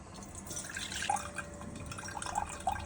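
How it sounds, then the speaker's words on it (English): Soaked basmati rice for Hyderabadi chicken biryani is strained, water trickling and dripping steadily with a few sharper drops standing out, close and fairly quiet. "Now strain the soaked rice."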